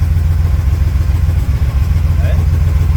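A 1938 SS Jaguar 3½ litre drophead under restoration runs after starting, its engine giving a steady low rumbling idle close by, with brief voices in the background.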